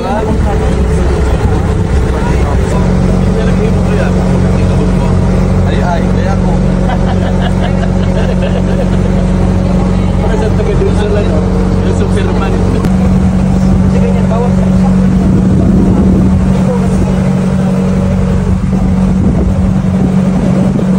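A steady motorboat engine drone runs throughout off Subic Beach, Matnog, Sorsogon, Philippines, with its pitch shifting partway through and a voice talking over it in Filipino.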